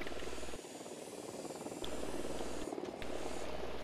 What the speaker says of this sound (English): The drone is up.